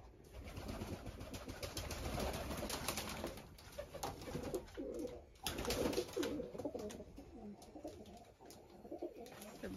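Pigeon cooing outdoors in a backyard with a banana tree, a steady run of soft coos mixed with other bird chirps over a constant background of rustling ambience, fairly close.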